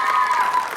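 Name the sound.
applause for the dance group Mozaika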